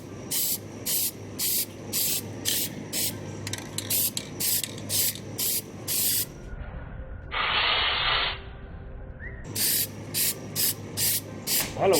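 Rust-Oleum Farm and Implement paint sprayed from an aerosol can onto a rusted brake drum from a 2004 Pontiac Montana, heard as repeated short hissing bursts in a steady rhythm, with a longer, quieter hiss midway and faint background noise.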